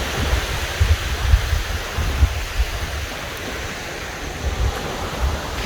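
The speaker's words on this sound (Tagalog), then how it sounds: "Medyo maalon." Rough sea surf churns in a broad, steady wash with low rumbling swells surging every second or so, close and fairly loud, mixed with wind noise on the microphone and no voices.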